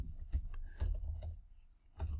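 Keys clatter on a computer keyboard in irregular bursts of close, soft taps with brief pauses between, and no voices.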